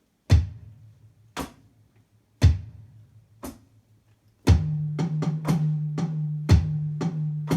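A drum kit playing a rhumba groove: a few spaced kick-and-hi-hat foot hits ring out alone, then the hands join with quicker snare and tom strikes over a sustained low drone, close and punchy.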